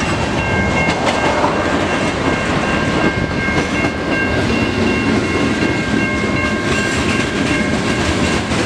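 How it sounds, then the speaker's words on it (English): A CN mixed freight train rolls through the Emmons Blvd railroad crossing in Wyandotte, Michigan: a loud, continuous roar of wheels and clattering cars close by, with steady ringing tones over it the whole time. "The train's going to St. John."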